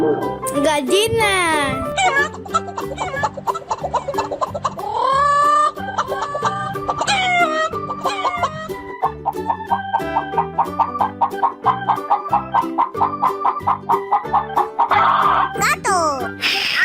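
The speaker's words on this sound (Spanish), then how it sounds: "Gallina." A hen clucking in a children's animal-sounds learning segment, repeated rhythmic clucks and squawks over a bouncy musical backing, with a voice speaking.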